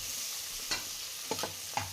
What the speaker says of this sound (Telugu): ఆనియన్ గోల్డెన్ బ్రౌన్ కలర్ వచ్చే వరకు వేయించుకుందామండి.